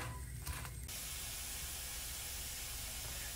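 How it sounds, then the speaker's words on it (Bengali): Dried red chillies sizzle and fry in hot oil, a steady broadband hiss with a brief crackling burst near the start, close and continuous with no talk. "প্রথমে আমি শুকনা মরিচগুলোকে তেলে নেব। এটাকে লাল লাল করে ভেজে নেব।"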